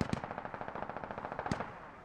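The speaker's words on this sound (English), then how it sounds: "Lots of rounds being fired at a distance Sir, here." Distant automatic gunfire in the military shooter game Squad, a steady rattling string of rounds with two sharper, louder shots standing out.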